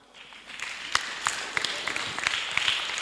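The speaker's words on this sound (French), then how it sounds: "On acclame." Applause from a church congregation during a Sunday school service, steady clapping with sharper individual claps standing out, moderately loud and continuous throughout.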